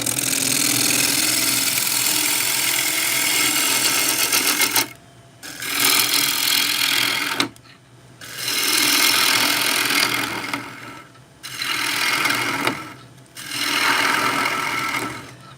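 A wood lathe turning a bowl, with loud bursts of gouge cutting and scraping hiss broken by short pauses, recurring in several passes about two seconds apart.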